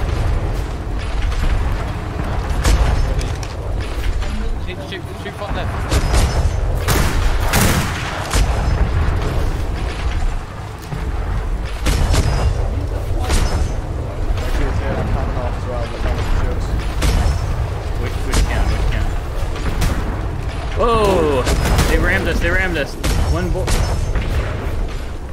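Heavy ship cannons boom repeatedly in a naval battle in the game Atlas, loud blasts and rumbling impacts scattered throughout amid mechanical clatter, with people talking over the gunfire.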